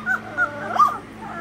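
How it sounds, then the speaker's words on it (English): A dog gives a few soft, whiny yips and a brief little bark, close up and fairly quiet, over a faint steady hum. "There's a little bark."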